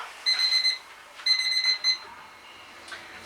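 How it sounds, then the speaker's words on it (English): A kitchen timer going off while banana bread bakes, beeping shrilly in two clear bursts of rapid electronic tones, followed by a fainter short chirp near the end, in an otherwise quiet room. "the alarm has just gone off"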